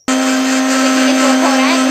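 Electric food chopper whirring steadily as it chops coriander, green chillies and onion, a loud, close, continuous motor hum with a constant pitch starting abruptly and running without pause.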